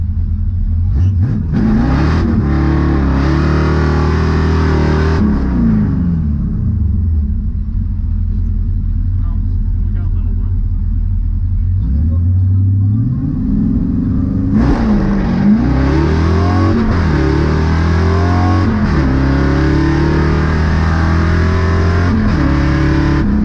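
Drag race cars rumble and rev hard on test passes at a high-altitude strip, with loud repeated acceleration bursts, pitch sweeps and a lull of lower idling between runs.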